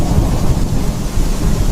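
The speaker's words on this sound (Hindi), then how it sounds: "और फिर आसमान से मूसलाधार बारिश होगी" Heavy rain pouring in a thunderstorm, a dense and loud low rumble with a steady wash of downpour and no voices.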